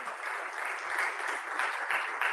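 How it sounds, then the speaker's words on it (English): Clapping from an audience at a Swarnim Vijay Varsh celebration event, a steady, even wash of applause heard from a distance, moderately faint and continuous throughout. "A huge round of applause for this momentous occasion"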